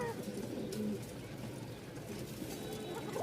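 A Rajshahi Giribaz high-flyer pigeon gives soft, repeated low cooing calls, close but quiet, against a faint background hum.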